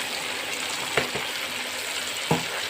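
Ground spinach paste goes into green masala frying in a pan, giving a steady soft sizzle with two brief louder splashes as it drops in, no talking.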